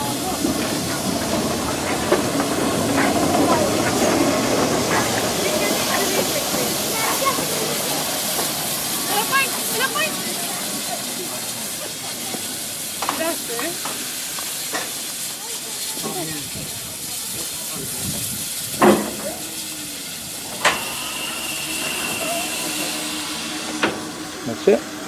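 A steam train stands at Bodiam station on the Kent and East Sussex Railway while it is coupled up, a steady hiss of steam running throughout with occasional clanks and sharp knocks, and voices talking faintly in the background.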